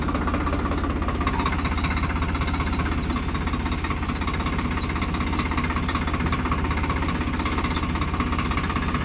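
A Swaraj 744 FE four-wheel-drive farm tractor runs its diesel engine in a speed test, a loud, close, steady rhythmic chugging throb that holds evenly with no talk.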